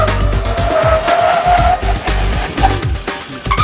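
A car under hard braking during a racetrack performance test, with loud, close tire squeal and engine roar sustained across the clip.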